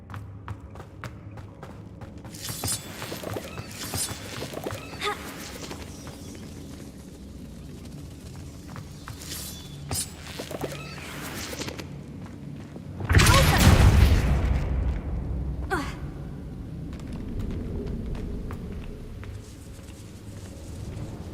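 Incendio fire spell cast in the Hogwarts Legacy video game, a sudden loud whooshing burst that flares midway through ongoing game ambience and clatter, then fades into a lingering rumble.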